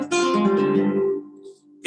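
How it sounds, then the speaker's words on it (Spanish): A flamenco guitar plays the toque por taranta. One strummed chord rings out loud and close and fades over about a second, then a fresh strum begins at the end. "se acompañan por un toque de guitarra que se llama toque por taranta"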